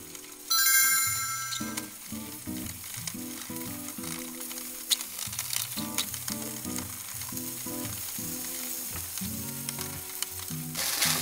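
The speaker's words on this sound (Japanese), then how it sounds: "はい、じゃあひたすらかき混ぜます。" Egg fried rice stirred steadily in a hot home frying pan, a loud continuous sizzle with repeated rhythmic scraping and clinking of the utensil against the pan, no talking.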